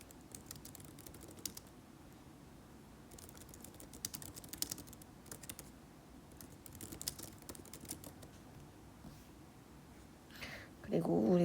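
Typing on a computer keyboard, soft, quick clicks in uneven clusters, faint and close, with a brief louder noise at the very end.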